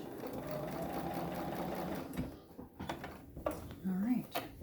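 A sewing machine back stitching to the edge of a pillowcase runs in a steady, close mechanical whir for about two seconds, then stops, leaving quiet handling noises and a brief voice.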